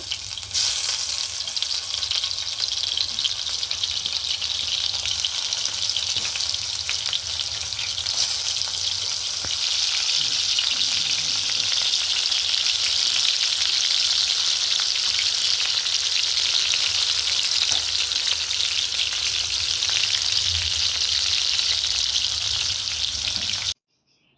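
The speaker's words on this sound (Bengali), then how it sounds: "তেলটা গরম হয়ে গেলে এর মধ্যে এবারে পটলগুলোকে ফ্রাই করে নেবো" Pointed gourds fry in hot mustard oil in a pan, a loud, steady, close crackling sizzle that runs unbroken for the whole stretch with faint scraping underneath, then cuts off abruptly; no talking.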